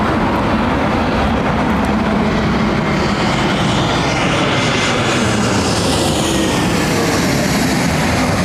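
An Avro airliner at London Heathrow Airport roars loudly and steadily throughout, a broad sustained engine rumble with no pause and no voices.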